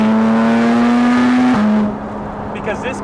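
A Porsche 718 Cayman GT4 RS on a dyno with an aftermarket exhaust revs hard and loud, climbs steadily, then drops off sharply to a lower idle with voices in the background.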